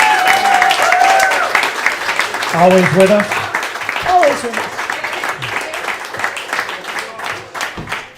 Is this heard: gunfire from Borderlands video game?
no